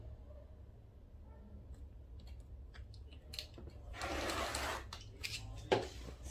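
Fabric being cut with scissors for a half-moon handbag, a few faint snips early on, then a louder, denser burst of cutting near the end over a low steady hum.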